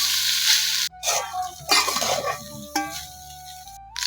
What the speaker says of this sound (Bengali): এখন বাসি ভাতগুলো দিয়ে দেব। একটু নাড়াচাড়া করে মিশিয়ে নেব।